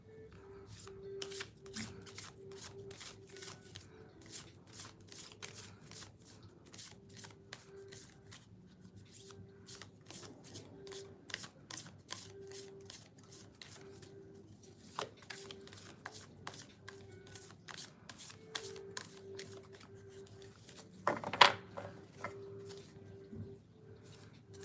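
Tarot cards being shuffled by hand, a rapid run of crisp riffling flicks repeated steadily and close up, with a louder clatter near the end and no talking.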